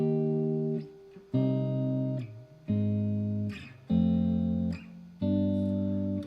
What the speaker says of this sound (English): if someone's playing chords that aren't friends with each other, which will sound kind of like this.